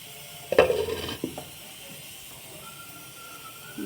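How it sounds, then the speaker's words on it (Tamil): Okra tamarind gravy (vendakkai puli) in a clay pot gives a short, close burst of hissing, sizzling bubbling, then falls to a faint, quiet simmer. "நல்லா கொதிக்கட்டும் ஃப்ரெண்ட்ஸ்"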